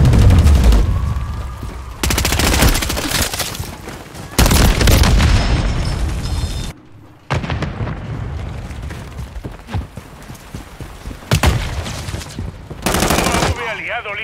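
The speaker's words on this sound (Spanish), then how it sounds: "¡Lanzando granada!" Call of Duty Modern Warfare III match with heavy gunfire, rapid bursts and a grenade blast, loud booms and rattling shots cutting in and out between brief lulls, voices faintly mixed in.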